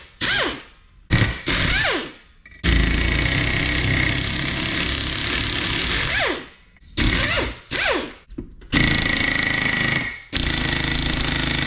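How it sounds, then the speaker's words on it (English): An old Snap-on air impact wrench with a 14mm impact socket hammers at a rusty hub nut during brake repair on a 1976 Chevy Luv. It makes loud, close bursts of rattling impacts, several in a row separated by brief pauses. "14mm impact socket, old school snap-on air impact."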